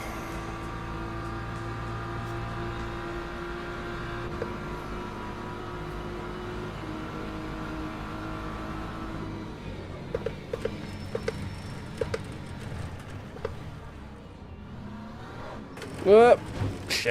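A BMW race car in the Le Mans Ultimate sim racing game drones with a steady, sustained engine note, then gives way to scattered knocks and clicks and a brief sharp burst near the end.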